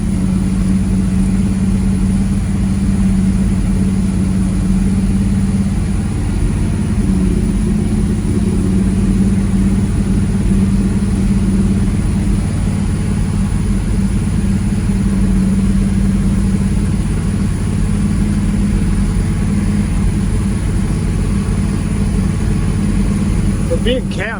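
Buick GS project car engine idling with a cam, a loud steady low rumble with a slightly lumpy pulse that holds throughout.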